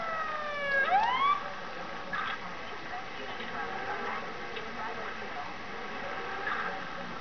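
A police car siren in an LSPD video game scene gives a brief rising and falling wail near the start, then fades into a steady, low background hum.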